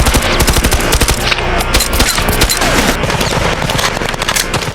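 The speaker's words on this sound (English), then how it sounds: "the militants begin firing, and everyone is forced to launch the attack according to the original plan" Sustained automatic gunfire from militants in a dense film battle scene, with loud rapid bursts of rifle and machine-gun fire overlapping into a continuous fusillade, close and relentless throughout.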